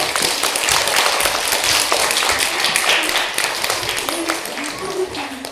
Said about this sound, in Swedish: Ge honom en applåd